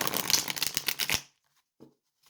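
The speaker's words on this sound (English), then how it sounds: "I really like shuffling this deck. This deck is wonderful to shuffle." A Tarot in Wonderland card deck being shuffled by hand, a quick run of crisp riffling card flicks for about a second, then a single faint soft tap after a pause.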